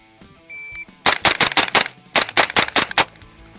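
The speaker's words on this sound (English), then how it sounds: "we're gonna put some rounds down range" Rapid gunshots fired downrange at training targets on an outdoor range, roughly eight sharp, loud reports in quick uneven bursts after a brief tone and quiet lead-in.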